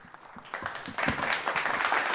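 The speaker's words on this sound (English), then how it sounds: "the claps and appreciation can get a lot louder" An audience at a kids' entertainment summit claps, the applause building from scattered claps into dense, steady clapping over about two seconds.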